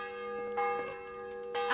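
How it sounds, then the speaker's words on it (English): Church bell in Kingdom Come: Deliverance rings out with sustained metallic tones, struck a few times so the clangs overlap and fade together, clear and alone with no talking. "would you like to have a little ring on the bell?"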